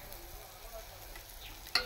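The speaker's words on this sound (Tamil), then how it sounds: "இது கொஞ்சம் வதங்கட்டும்." Chili powder and black tamarind sautéing in a pan, a soft low sizzle with faint stirring, ending in a sharp clink of a utensil against the pan near the end.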